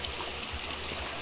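Clear water of the Calabuso river flows steadily, a continuous close rushing and gurgling wash that fills the whole stretch without voices.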